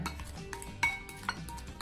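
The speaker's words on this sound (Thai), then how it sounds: "คนส่วนผสมของเรานะคะให้เข้ากันก่อนนะคะ" A utensil clinks and scrapes against a bowl in quick, irregular taps while a satay chicken marinade mixture is stirred, quiet and close.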